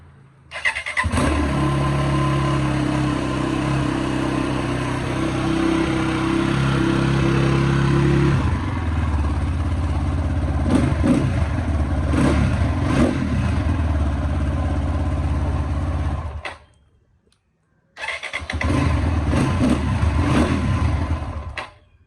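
A motorcycle engine cranks and catches, idles with a steady low drone, then revs in repeated surges, cuts out briefly and starts again, loud and close with no talk.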